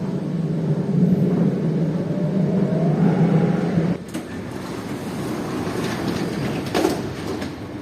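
A metro train at Shanghai airport rumbles steadily with a rising motor whine, then the tone shifts as it slows, with clicks and rattles of the carriage; no talk.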